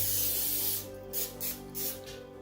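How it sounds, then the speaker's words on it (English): Cooking spray sprayed onto a sheet of reused plastic wrap, one long hissing burst followed by three short sprays, close and clear over a low background hum. "Now I'm just going to spray my plastic wrap."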